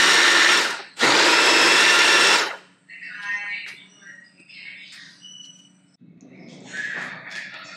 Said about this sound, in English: I'm gonna test out the magic bullet and let you guys know how it goes.